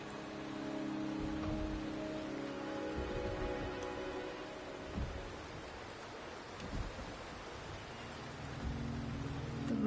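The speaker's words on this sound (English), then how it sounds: "The rain is subsiding, and the sky will soon clear." Rain in the video game Wuthering Waves falls as a steady, even patter that fills the scene, with soft tonal music underneath and a few low thumps along the way.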